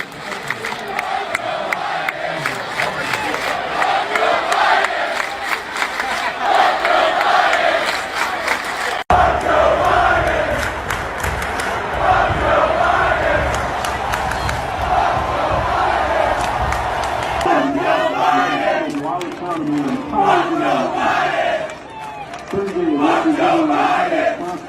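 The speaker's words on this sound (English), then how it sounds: "crowds around the country started chanting something in unison" Large stadium crowd chanting the same phrase in unison, a loud, sustained roar of many voices with rhythmic repeated swells, dense and continuous throughout with a brief dip near the end.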